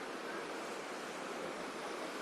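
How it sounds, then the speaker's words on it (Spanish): A river in Almaty, Kazakhstan, rushes along in a steady, broadband wash of flowing water, continuous and fairly close, with no voices over it. "Miren aquí qué bonito está este río."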